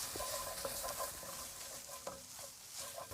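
Tomato puree and onion mix frying in a pan for a butter chicken sauce, a quiet, close sizzle broken by soft scraping stirs and small pops across a few seconds; no talk.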